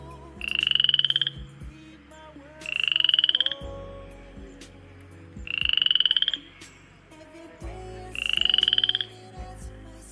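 Frogs croak at a pond in four evenly spaced, loud, drawn-out calls, each a rasping pulsed burst about a second long, near and with no talking.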